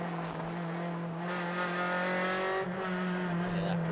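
A touring race car in the United States Touring Car Championship brakes and downshifts into a corner, its engine note droning loudly up close and dropping in pitch as it shifts down.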